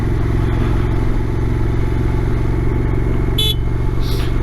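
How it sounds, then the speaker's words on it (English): A Honda NT1100 motorcycle idles close by with a steady mechanical rumble, then its horn gives two short beeps near the end. "Horn still works."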